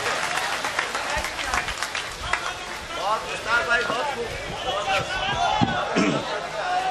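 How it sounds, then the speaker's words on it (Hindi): Applause from the audience at a mushaira poetry gathering in Malegaon, a steady patter of clapping mixed with crowd chatter and someone speaking over it. "जोरदार तालियों से इस्तकबाल फरमाएं।"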